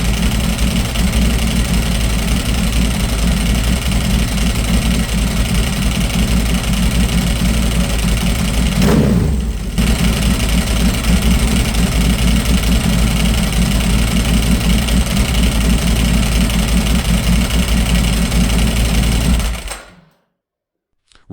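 A Ducati Monster 1100 motorcycle engine idling at about 1300 RPM, a loud, steady throbbing rumble close up that runs unbroken for about twenty seconds, then cuts off abruptly to silence.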